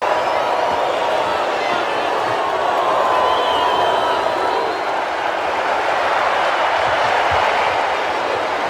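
A boxing arena crowd in Rocky IV roars and cheers for Drago, a thick, continuous wall of massed voices at steady loudness throughout.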